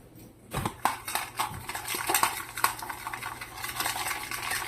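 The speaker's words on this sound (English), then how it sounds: "Alright, so now we need something to mix with. So I'm going to use a fork." Fork scraping and clinking against a bowl while mixing a chicken marinade of smoked paprika and Worcestershire sauce, steady close-up clatter with a few sharper taps, no talking.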